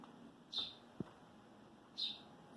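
An injured baby bird with a hurt wing and leg gives two sharp, high chirps about a second and a half apart, with a soft tap between them, in a quiet indoor room.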